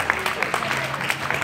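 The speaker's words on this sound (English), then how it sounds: "Would you guys give Danielle a big round of applause?" Applause from an audience watching a stage show at a fair, a moderate, steady patter of clapping that lasts throughout at mid distance.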